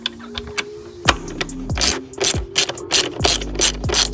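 A hand ratchet clicks in quick bursts while loosening bolts on the throttle body of a 2020 Jeep Grand Cherokee V6, close and sharp, with several separate runs of rapid pawl clicks and short pauses between strokes.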